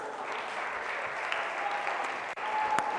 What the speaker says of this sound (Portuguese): Oh, aplauda o Espírito Santo em nome de Jesus.